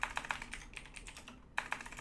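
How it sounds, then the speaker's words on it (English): Fingers tap out a run of keystrokes on a computer keyboard, close and quiet, in quick uneven bursts with a short pause before the typing picks up again. "I am able to type"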